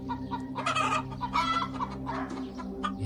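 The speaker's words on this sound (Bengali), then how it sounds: "এ তো সত্যি মুরগি, অনেকগুলো আছে মনে হচ্ছে।" Cartoon chickens cluck repeatedly in a Bangla animated story about a tiger and a fox stealing chickens, several birds together, close and lively over a steady low background hum.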